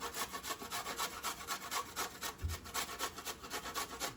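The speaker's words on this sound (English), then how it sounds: "I'm gonna get the box grater and we're going to grate in this ginger" Ginger is rubbed against a box grater in quick, even back-and-forth rasping strokes. The scraping is faint and steady, with no talk.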